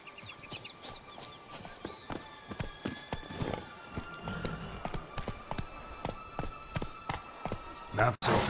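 Hooves of Geralt's horse Roach clop steadily on the ground in The Witcher 3, a regular close rhythm of beats with game ambience and spoken dialogue over it.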